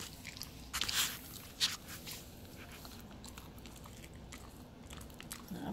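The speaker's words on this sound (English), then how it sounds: "There, I hear some bones crunching." A husky puppy crunches bones while eating its first raw meal, giving a few sharp, close bites and crunches near the start and softer chewing afterward over a quiet background.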